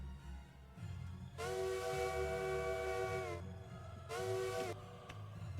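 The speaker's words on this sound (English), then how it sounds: "You blow the whistle again." A locomotive whistle in the Derail Valley train simulator sounds in two loud, steady blasts, a long one followed by a shorter one, over low rumbling engine and rail noise.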